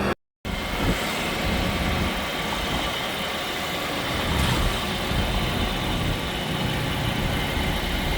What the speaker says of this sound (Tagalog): Ito guys, yung engine ng ating 2021 Toyota Rush G variant.